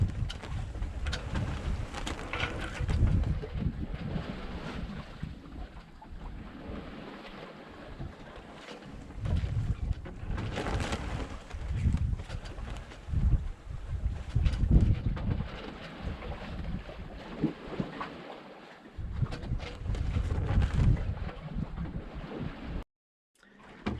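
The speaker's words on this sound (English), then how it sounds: "The wind is about 10 knots. And we are going along at almost 5 knots on a broad reach." Wind buffeting a sailboat on a broad reach at sea in about 10 knots of breeze, a steady rushing gusty roar with surges of louder blasts against the microphone and water noise beneath, no talking.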